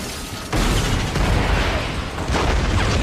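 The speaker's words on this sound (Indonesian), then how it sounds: "disambut dengan sebuah bom ranjau" A landmine detonates in a film scene: a sudden loud, broadband boom erupts after a brief quieter lead-in, then rolls on as a sustained, rumbling blast with debris-like noise and a second swell near the end.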